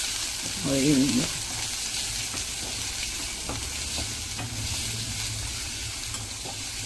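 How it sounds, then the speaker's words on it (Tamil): Onions sauté in a hot pan as the first step of a Chinese-style prawn gravy. A loud, steady sizzle runs the whole time, with scraping stirring strokes on top. "கொஞ்சம் நல்லா வதக்கி விட்டுக்கோங்க"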